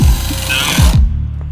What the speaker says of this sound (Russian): тут крышу вот сверлим Никитосу